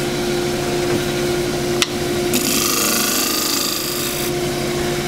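A skew scraper cuts cross-grain wood on a lathe while turning a box, giving a steady close scraping hiss over the lathe's hum, with a sharp knock midway and a brighter shearing rasp afterward.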